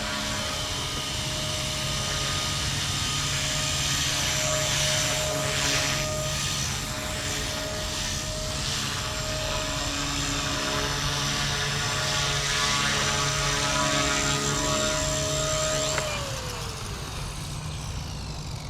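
A Blade Fusion 180 RC helicopter hovers and flies with a steady, loud, high-pitched rotor and motor whine, holding constant before the pitch drops briefly near the end.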